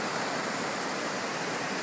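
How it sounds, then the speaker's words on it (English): Waterfalls pour down a mountainside near a glacier-fed river in Alaska, making a steady, even rushing roar of falling water with nothing else heard over it. "waterfalls coming down off of the mountain"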